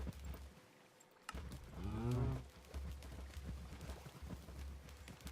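A cow in the Minecraft video game gives one drawn-out low moo near the middle, standing out over a steady background hum with small game clicks and no talking.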